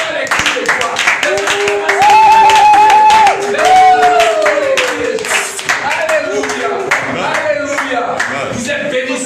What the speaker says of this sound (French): Les acclamations dans les cris de joie